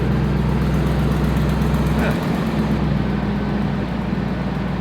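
A 1998 Ford F150 engine idles with broken exhaust manifold bolts, a loud steady low rumble with a faint ticking leak, running continuously close by.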